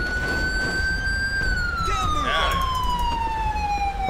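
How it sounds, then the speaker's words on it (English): Police car siren in the game GTA V with the LSPDFR mod, a loud continuous wail sweeping slowly down in pitch over traffic noise, with a brief burst of other sound midway. "I'm gonna shut my siren off real quick."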